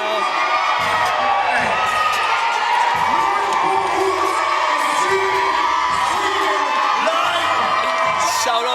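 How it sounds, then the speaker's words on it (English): A crowd cheers, whoops and shouts, with children's voices among them, at a Grade 7 youth all-star basketball game in an indoor gym. The noise is loud and sustained throughout. "the crowd is going crazy"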